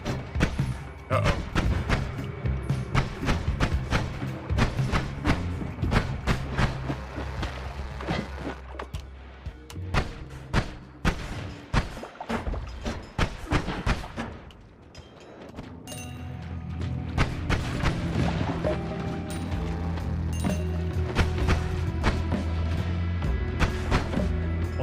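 Explosions in the game Noita, a dense run of sharp thuds and crashes against a busy game soundtrack, quickening in the first half, then swelling into a louder sustained roar toward the end.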